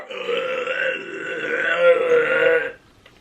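A long, loud, rumbling burp lasts nearly three seconds during a no-burping challenge, close to the mic, then cuts off into near silence.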